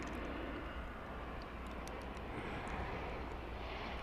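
A passenger airplane arriving from Fargo at Dallas/Fort Worth (DFW) Airport, a continuous broad jet engine roar heard from a distance at a steady level throughout, with no talk.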